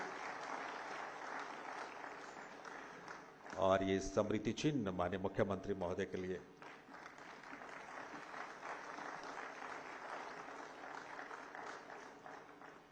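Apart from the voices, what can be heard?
applause in the Haryana Assembly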